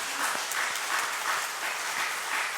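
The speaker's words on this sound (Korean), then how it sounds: "사명 감당을 다짐하면서 하나님께 박수합니다." Church congregation claps together after a Sunday sermon, a steady dense patter of many hands filling the sanctuary with no voices over it.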